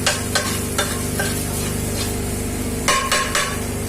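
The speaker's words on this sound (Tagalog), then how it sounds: "Ganito magluto si Chipmate." Food being stirred and fried in a pan, a continuous sizzle under repeated clinks and scrapes of a utensil against the metal; no one speaks.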